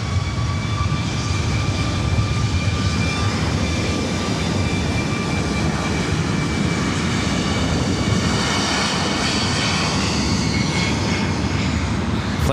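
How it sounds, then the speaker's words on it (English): An Airbus A350-900 jet lining up on runway 24 right at LAX for flight 621 to Rome produces a loud, continuous engine roar with rising whine tones, steady throughout with no talk. "Flight 621 heading back to Rome, A350 900."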